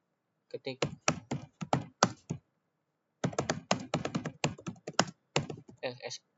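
Computer keyboard typing while a router command is entered in Packet Tracer, two close bursts of quick clattering keystrokes with a short pause between them, and no one talks.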